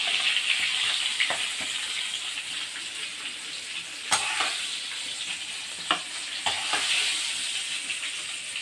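Chicken pieces frying in a pan for chicken fry biryani, a loud, continuous close-up sizzle with a few sharp pops and stirring clatters scattered through it, no voices.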